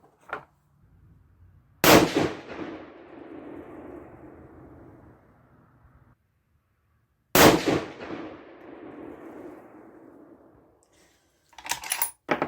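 Two loud 6.5 PRC rifle shots with Hornady 140-grain loads fired several seconds apart, each a sharp blast trailing off in a long echoing decay, with a brief clatter near the end.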